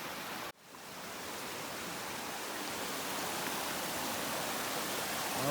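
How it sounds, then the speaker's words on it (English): Steady broadband rush of a babbling creek beside a hiking trail in the Rockies near Heart Creek, continuous and fairly close, swelling slightly louder after a brief dip near the start. "I love babbling, burbling creeks hiking along them"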